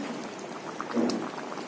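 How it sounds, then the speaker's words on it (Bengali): Chicken curry, marinated in yogurt, bubbling in a pot, with soft continuous simmering pops and a brief louder gurgle midway, heard close and without voices. "মাংস ফুটছে।"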